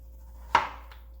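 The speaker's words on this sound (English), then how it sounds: "We just cut in the middle, put it vertical, and start cutting small slices" A knife slices through a halved zucchini set upright, giving one sharp, close chop that rings briefly, then a fainter second cut, with no talking.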